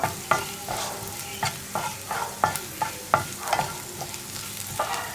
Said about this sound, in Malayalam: ഇനി മഞ്ഞൾപ്പൊടിയുടെ ആ ഒരു റോ ടേസ്റ്റ് മാറി വരുന്നത് വരെ 1 മിനിറ്റും കൂടി ഒന്ന് ഇളക്കി കൊടുക്കുക